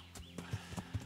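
Horse hooves clip-clopping in a medieval game setting, a steady walking rhythm of four or five distinct hoof strikes, fairly close and clear with no talking.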